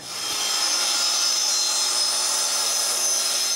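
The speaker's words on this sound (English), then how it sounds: "The first cut is done with the circular saw." Circular saw cutting a wooden beam for scarf joints on a firewood carport, a loud, sustained high whine and rasp rising quickly and holding steady, close and alone.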